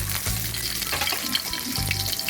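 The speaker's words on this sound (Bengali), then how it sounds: "এই যে আমার মশলাগুলো প্রায় লালচে লালচে বাদামি করে ভাজা হয়ে গেছে" Whole spices fry in hot oil in a pan for a home-style chicken curry, giving a steady close sizzle with faint crackles and an occasional stir, and no talking.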